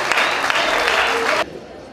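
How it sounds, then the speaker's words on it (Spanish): Loud audience applause at a cultural program of the Casa de la Cultura in Cañar, Ecuador, a dense burst of clapping lasting about a second and a half before it cuts off abruptly to quiet room tone. "El aplauso fuerte, por favor, para Francisco Quinteros."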